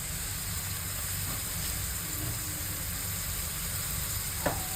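Ingredients for fried rice sizzle in a hot pan, a steady close hiss that continues without break, with one brief clink near the end and no talk.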